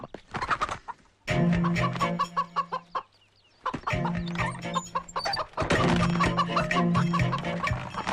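A chicken clucks and squawks loudly and agitatedly in repeated close bursts separated by brief pauses, from a Malayalam comedy scene.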